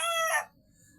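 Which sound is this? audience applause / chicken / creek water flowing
chicken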